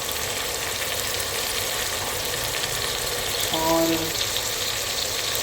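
Sliced onions cook in water in a pan for Irani chicken, a steady bubbling simmer and soft sizzle running throughout, with a brief clink and a short spoken word partway through.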